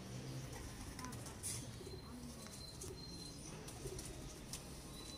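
A bloodline breeder pigeon coos softly in low, brief phrases, faint against a steady background hiss, with a few light chirps.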